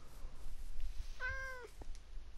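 A cat in the Minecraft video game meows once, a short clear in-game mew standing alone over a quiet background hum.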